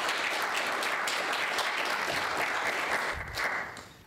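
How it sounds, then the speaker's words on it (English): Moderately quiet audience applause at a panel discussion, a steady patter of many hands that thins and fades out near the end. "we'll definitely applaud him"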